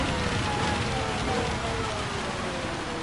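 Steady rain from a Gran Turismo 7 race on a wet track hisses as a constant, dense wash with no pauses, filling the whole stretch at an even level.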